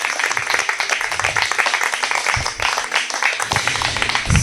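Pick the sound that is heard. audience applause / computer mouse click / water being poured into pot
audience applause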